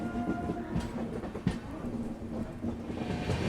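The Kongu Express running on the rails between Hyderabad and Bangalore, heard as a soft, steady rumble with irregular clicks and clatter of the wheels, fairly quiet and continuous.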